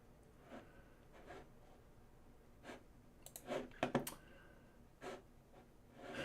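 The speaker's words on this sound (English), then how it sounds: "I really like loud keyboard clickly clacks." A mechanical keyboard with blue switches clicks in scattered taps, a few separate keystrokes and then a quick cluster, sharp and fairly quiet against a faint background hum.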